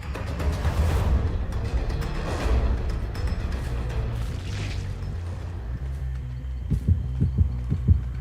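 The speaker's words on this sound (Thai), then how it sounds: "กูตามเสียงหัวใจ" A heartbeat in the Dead by Daylight game, a low pulsing thump that rises and falls under busy game noise and grows into sharper, louder beats toward the end.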